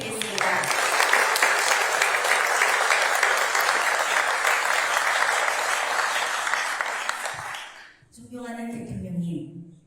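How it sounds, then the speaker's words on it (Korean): A large audience of Korean expatriates claps in loud sustained applause welcoming the president and first lady in Belgium, dense and continuous before fading out, followed by a voice beginning to speak. "대통령님과 여사님께 큰 박수로 환영을 부탁드리겠습니다"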